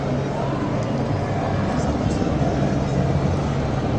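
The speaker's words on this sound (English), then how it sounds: "the police helicopter, is right above us" Police helicopter hovering directly overhead during a large anti-migrant street protest in Britain, a steady loud rotor and engine drone filling the whole stretch, mixed with crowd noise below.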